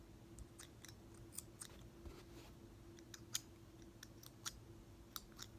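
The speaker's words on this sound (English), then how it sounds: "The scissors don't cut." Scissors snip at fabric during hoodie sewing, a quiet series of irregular sharp clicks and blade snaps over a faint low hum.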